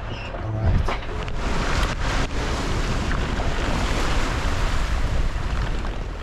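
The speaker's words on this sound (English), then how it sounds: "The wind was rapidly picking up." Wind and waves at sea on a reefed sailboat off Iceland as the wind builds, a steady loud roar of gusts buffeting the microphone over rushing water, with no talk.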